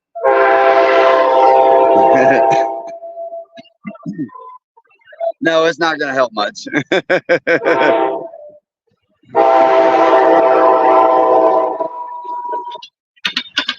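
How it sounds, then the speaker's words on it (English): An Amtrak train passes close by in Florida, sounding loud, sustained horn blasts separated by a rattling rumble of wheels and cars. Someone speaks briefly between the blasts. "That was the Amtrak train there."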